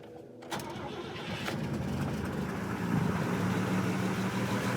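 A Volvo 164 with a carbureted engine starts and settles into a steady, slightly high idle, running close and loud with a constant low rumble and no talk.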